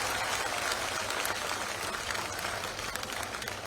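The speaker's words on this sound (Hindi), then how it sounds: "ताली बजाकर स्वागत करो जरा" An audience at a Labharthi Sammelan beneficiaries' gathering applauds to welcome a union minister, a dense, steady wash of clapping that fills the whole stretch without pause.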